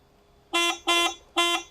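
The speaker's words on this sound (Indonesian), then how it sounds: "ini ada saklar untuk klakson ya" Three short electronic horn beeps from a 1968 Vespa Sprint converted to electric, evenly spaced, loud and close with a bright buzzy tone, on a quiet background.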